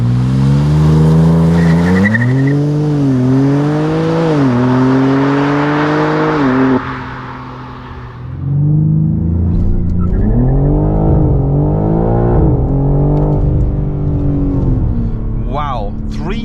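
A tuned 612 hp BMW M3 xDrive makes a launch-control start on a slippery road, its engine roaring loudly up through rising gear pulls with brief shift dips and some tire noise, with a person talking over it.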